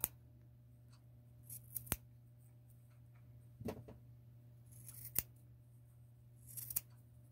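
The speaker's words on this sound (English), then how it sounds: "Just have to be sure to go up the center. With the, and not cut anything in the middle." Scissors cutting up the steek of a knitted ski sweater, a few sharp, separate snips spaced a second or two apart, close and quiet in an otherwise still room.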